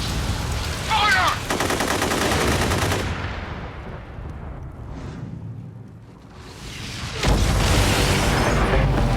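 Gunfire in the video game inFAMOUS Second Son, loud bursts of rapid automatic shots with booming impacts, a quieter lull in the middle, then another dense volley.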